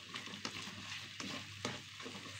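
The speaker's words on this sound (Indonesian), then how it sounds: "Kita tumis dulu" Onion and garlic sauté in a pan for a black pepper beef dish, a steady soft sizzle with a spatula scraping and stirring in several distinct strokes, close and fairly quiet.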